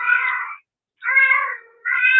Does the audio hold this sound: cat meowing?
yes